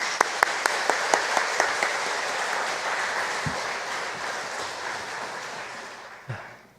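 A church congregation applauds warmly during a Sunday service, with a few sharp individual claps standing out at first, then the clapping thins and fades toward the end.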